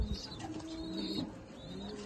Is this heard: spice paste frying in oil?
no